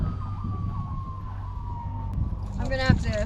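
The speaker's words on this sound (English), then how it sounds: "You hear them sirens?" A siren wails faintly in the distance, its tone sliding steadily, then louder warbling sirens rise near the end over low traffic rumble.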